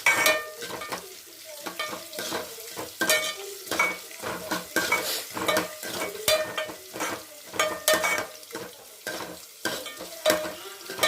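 Chopped tomato is stirred and fried in a pan for avarekalu (field bean) sambar, with repeated close spoon scrapes and clinks against the metal over a continuous sizzle of hot oil, no voices.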